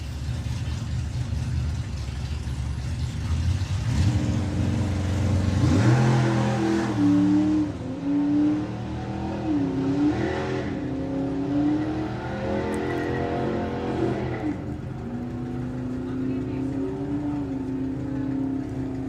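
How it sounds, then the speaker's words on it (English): VW Golf and Audi A3 drag cars racing side by side at Santa Pod Raceway, engines revving hard and rising in pitch through the run, loud and close, with no talk over them. "Going alongside Phil Jones, the Dragon Wagon Audi A3."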